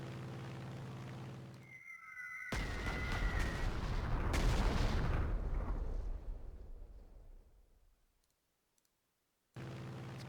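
Artillery fire in Panzer Corps 2 sounds as a loud rumbling barrage that builds, holds and fades over several seconds, with clicks before and after and a brief silence near the end.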